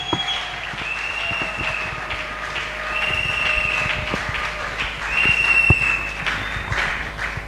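A congregation at a worship gathering claps and cheers in a sustained, rolling burst, with bright held tones ringing above the crowd noise and scattered sharp claps standing out.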